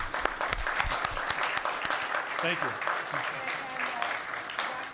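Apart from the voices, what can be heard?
audience applause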